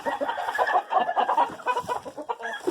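Chickens, including a rooster and hens, cluck and chatter continuously at close range, a busy overlapping stream of short calls from several birds.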